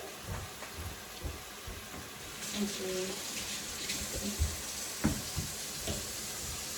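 Water runs from a kitchen tap in a steady hiss while a Puerto Rican mofongo dish is being cooked, with a few clinks and light knocks of kitchenware through the stream.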